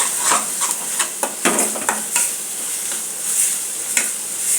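Chicken pieces frying in green chilli masala in a pan for a chicken and ridge gourd curry, a constant sizzle broken by repeated spoon stirs and scrapes against the pan.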